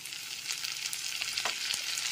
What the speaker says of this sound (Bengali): টমেটো কুচিটাকেও লো টু মিডিয়াম ফ্লেমে খুব ভালো করে কষিয়ে নিতে হবে